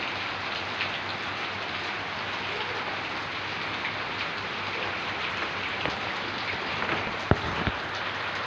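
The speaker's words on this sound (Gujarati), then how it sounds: "જો જોરથી ચાલી રહ્યો છે વરસાદ અત્યારે।" Heavy rain pours down in a continuous, even hiss of drops on surfaces, with one brief sharp knock near the end and no voices.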